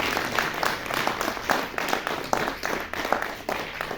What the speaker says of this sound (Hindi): Please give a big hand.